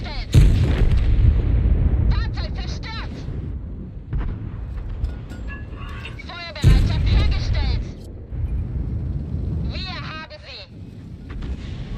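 Heavy booming artillery fire in a World of Tanks–style tank battle game, with deep blasts near the start and again around the middle over rumbling battle noise, while someone talks over it.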